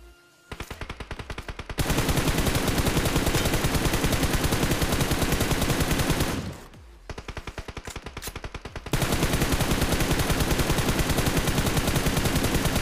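Automatic gunfire rattles in rapid, dense bursts during a battle royale mobile game match, loud and close, with one brief pause before the shooting resumes even heavier, and no one talks.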